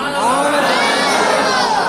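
Crowd of young men chanting the Naara-e-Haidari slogan at a Muharram majlis in Hyderabad, a loud, dense wall of voices sustained throughout without a break.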